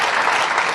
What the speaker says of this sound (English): yeah, you can applaud for our band